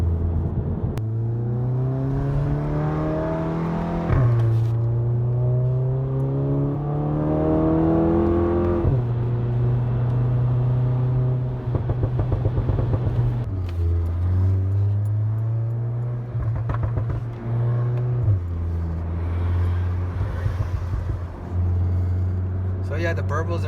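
Engine and exhaust of a VW GTI MK7 fitted with a Performance Pro 1 catback exhaust, with a continuous loud drone that rises and shifts in pitch through gear changes as the car accelerates at speed.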